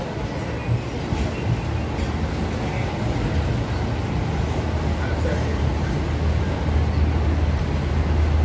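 Arakkonam–Chennai Beach EMU electric multiple unit train pulling out of Chengalpattu Junction, a steady broadband rumble and rolling noise held throughout at close range, with faint station voices underneath.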